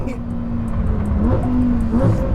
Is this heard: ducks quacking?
no